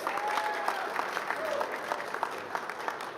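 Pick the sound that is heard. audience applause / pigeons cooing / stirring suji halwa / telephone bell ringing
audience applause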